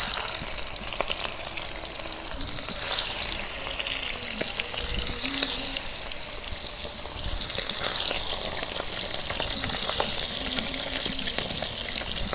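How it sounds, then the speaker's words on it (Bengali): Rohu fish head frying in hot mustard oil in a wok, a steady broadband sizzle with occasional clinks and stirring sounds throughout, no talking. "তেল গরম হচ্ছে, এখন মাছ ভাজা নেই। মাছের মাথাটা প্রথমে দিই।"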